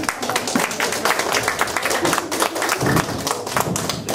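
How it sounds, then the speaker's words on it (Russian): An audience applauds at a book presentation in Brisbane, with loud, dense clapping from many hands running steadily from start to finish, close and full. "Громкие аплодисменты."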